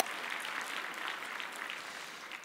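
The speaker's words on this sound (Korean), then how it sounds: "박수로 환영합시다." A church congregation applauds in welcome, a steady wash of clapping from many hands at moderate distance, continuous and even throughout.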